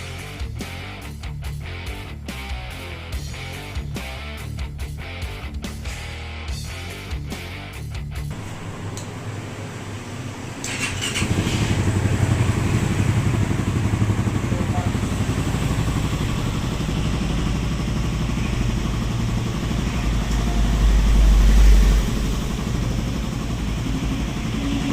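Raider 150fi motorcycle engine running on a test battery, at first a quiet, rapid ticking idle, then catching into a louder, steady running hum that stays close and even.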